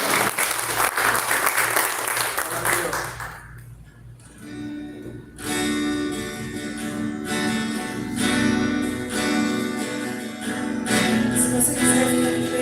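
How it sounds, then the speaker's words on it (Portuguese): Church congregation at a worship service applauding the Lord, a dense sustained wash of clapping from many hands that dips briefly then swells again with music or voices blending underneath. "Você pode dar um aplauso ao Senhor?"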